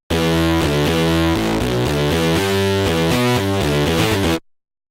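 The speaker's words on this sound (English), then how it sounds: "And now with Omnichord." An Omnichord runs through a Darkside distortion pedal, playing a loud, saturated sequence of thick buzzing chords that changes steadily before cutting off abruptly near the end.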